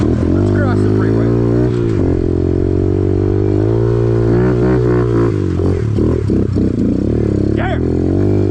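Kawasaki KLX110 pit bike engine revving hard as the rider takes off on a trail, a loud, close, continuous buzzing drone with rising and falling revs, with speech over it.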